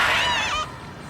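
A single cartoonish duck quack sound effect from the Power Rangers movie: one nasal, honking call that bends downward and cuts off after about half a second, loud and alone.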